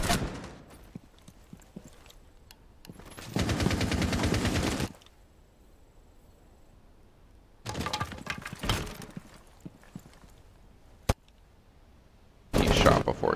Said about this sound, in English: He shot before he could even really see him.